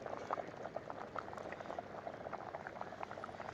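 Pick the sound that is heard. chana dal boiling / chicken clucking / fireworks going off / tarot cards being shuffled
chana dal boiling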